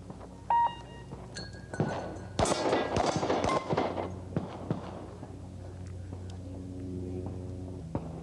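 Pistol gunfire on a 1984 Steel Challenge shooting stage: a short beep, then a quick string of sharp cracks bunched together, followed by a few scattered shots and faint background voices.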